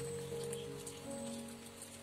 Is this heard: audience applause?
no